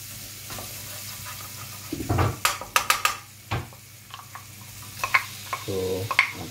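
Sliced onions sauté in a pan until reddish, a low steady sizzle broken by a quick run of sharp spatula clacks and scrapes against the metal, then more scattered stirring knocks.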